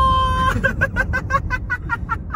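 A person imitating a chicken with the voice, giving a run of rhythmic, clucking pulses in quick succession, loud and close, after a short sustained vocal tone.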